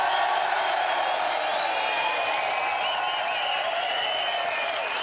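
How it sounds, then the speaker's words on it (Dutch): A studio audience at a TV game show applauds continuously, a steady wash of clapping and crowd noise with a few whoops, at moderate level. "mag ik een daverend applaus voor mijn geweldige bodyguards"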